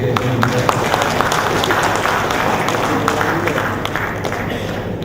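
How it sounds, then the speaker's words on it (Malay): Audience applause at a Teachers' Day ceremony in Malaysia, a steady wash of many hands clapping throughout, fairly loud and continuous, with some crowd noise mixed in. "tepuk tangan sekali kepada Tan Sri"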